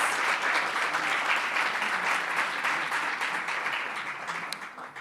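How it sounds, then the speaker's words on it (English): An audience applauds at a live public lecture event, a dense, steady crowd clapping that carries on throughout and eases slightly toward the end. "Please give him a round of applause."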